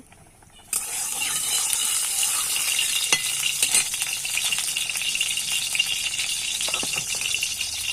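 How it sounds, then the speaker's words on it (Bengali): Okra drops into hot oil in a wok and bursts into a loud, steady sizzle that carries on continuously, with faint clatters of stirring now and then. "এবার আমি ভেন্ডি ভাজা করব। এই যে তেল দিয়ে দিয়েছি কড়াইতে।"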